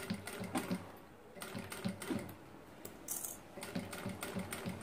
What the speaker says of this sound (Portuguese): Você consegue fazer na sua doméstica, utilizando os tecidos próprios para uma máquina doméstica e fazendo devagar.